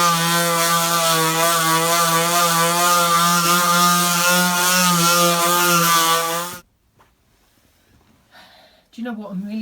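Black and Decker power sander working a coffee table panel, a loud steady harmonic whine running continuously for several seconds before cutting off abruptly, followed by near silence and faint handling noise.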